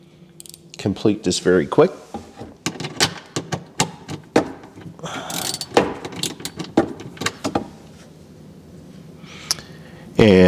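A ratchet with a 1/4-inch socket removes a screw from a panel on a KitchenAid KUIX335HPS01 icemaker, giving rapid close-up clicks in quick bursts while a person talks over them.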